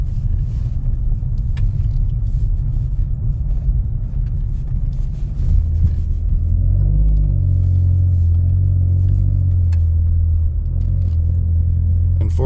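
Front-wheel drive car driving on a snowy hill road, heard from inside as a loud continuous low engine and road rumble that deepens and steadies partway through, with no talking.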